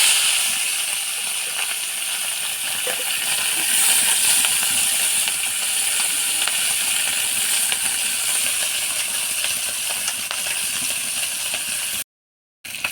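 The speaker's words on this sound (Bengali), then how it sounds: "এবার চুনো মাছগুলো ভেজে নেব।" Small chuno fish fry in hot salted mustard oil in a pan, giving a loud, steady sizzle and hiss that holds for about twelve seconds before a brief cut near the end.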